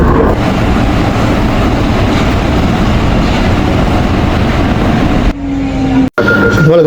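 Driverless electric metro train running in France, a steady loud rumble of wheels and motor filling the carriage, then a brief drop and a short tonal whine near the end.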